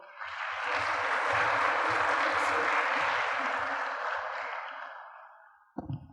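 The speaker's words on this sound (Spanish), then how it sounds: "Un aplauso, por favor." An audience at a lecture in Quito on world geopolitics applauds: a broad wash of clapping swells, holds steady for several seconds, then fades before a brief bump at the end.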